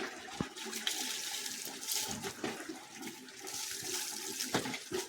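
Water runs and splashes steadily while a pet dog is bathed, a continuous close wash broken by a few sharper splashes and pours.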